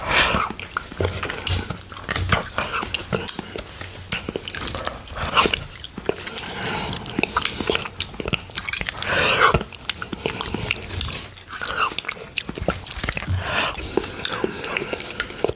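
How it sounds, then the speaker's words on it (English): Close-up eating of Greek style blueberry yogurt with strawberries, with wet smacking mouth sounds, chewing and soft crunches in a steady, irregular rhythm, heard up close. "I'm gonna eat yogurt."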